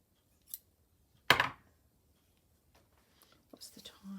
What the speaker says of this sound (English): I'm going to cut the round bit off.